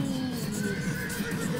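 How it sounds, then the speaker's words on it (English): A horse whinnies within the video game Animal Revolt Battle Simulator, a drawn-out neigh over steady loud battle noise throughout. "Horsey!"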